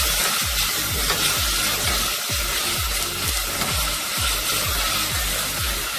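Garlic sizzles loudly in a hot pan with repeated stirring scrapes in a steady rhythm, a close crackling fry that carries on alone without any talk.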